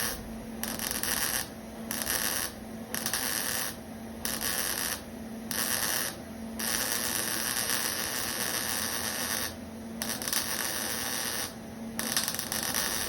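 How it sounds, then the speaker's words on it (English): Welding a new rocker panel onto a car body, heard as a series of about eight loud, steady crackling bursts separated by short pauses, close by and with no speech. "Here we are welding it on"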